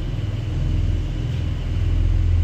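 Deep throbbing engine rumble from a Porsche 911 (992) Turbo S, a close, steady pulsing low drone that swells slightly louder toward the end, no voices.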